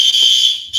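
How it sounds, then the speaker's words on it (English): A fire alarm sounds alone as a steady, loud, high-pitched electronic tone, briefly dipping near the end before resuming. "They fooling with the fire alarm, but they fooling with the fire alarms."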